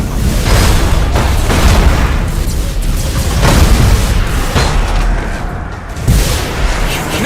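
Thunderhawk bombardment in the space strategy game Battlefleet Gothic Armada 2 pounds down as a loud, dense barrage of booming explosions and rumbling blasts, several heavy hits rolling one after another with no pause.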